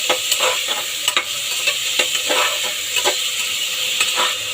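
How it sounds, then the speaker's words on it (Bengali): Soaked, drained potato pieces sizzle in hot oil in a pan as a spatula stirs them, with repeated scraping strokes over a constant frying hiss, close and clear. "হালকা খুন্তি দিয়ে নেড়ে দিতে হবে"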